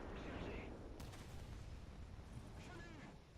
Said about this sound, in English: First shot.